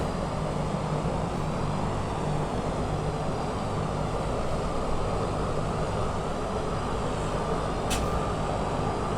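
A C-130H engine spinning up in Microsoft Flight Simulator, heard as a steady, loud droning whine and rumble that holds evenly throughout, with a faint tick near the end and no talk.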